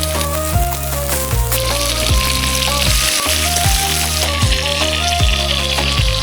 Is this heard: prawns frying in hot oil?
yes